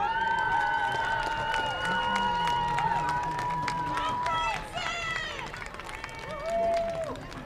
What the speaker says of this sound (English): Let's get one more really big round of applause for everybody out here today